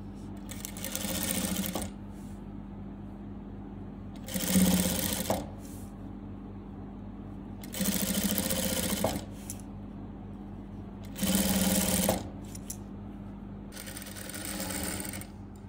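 Sewing machine stitching gota lace onto a salwar, running in about five loud, close bursts of rapid whirring separated by brief pauses, with a faint hum underneath.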